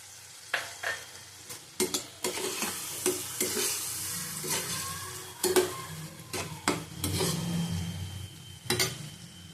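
Prawns with chili powder frying in a pan, with a close, low sizzle broken by repeated sharp scrapes and stirring strokes of a spatula against the metal.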